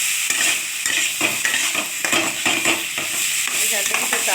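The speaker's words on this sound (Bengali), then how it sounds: "আমি ভেজে রাখা আলু আর এটা ফুলটা তুলে দিলাম। এই মশলাটার সঙ্গে কষিয়ে নেব।" Fried potatoes and furuli flowers are stirred with spices in a pan, producing a close, steady sizzle broken by rhythmic scrapes and taps of the spoon against the pan.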